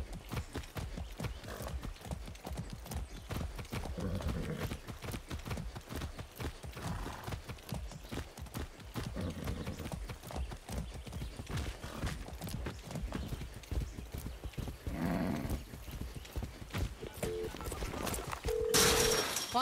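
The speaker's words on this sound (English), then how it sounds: "I have a horse." Horse hooves clip-clop steadily throughout a ride in the video game Far Cry 6, a continuous rhythmic trotting close up with occasional in-game clatter and effects layered over it.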